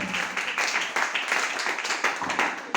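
A church congregation claps together in praise during a Spanish-language sermon service, a dense, steady patter of many hands heard close and loud, with no voices over it.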